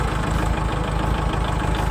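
A 2012 Kubota L4708DT walk-behind tractor engine idles steadily up close, a continuous low mechanical throb with a fast regular pulse and no voices.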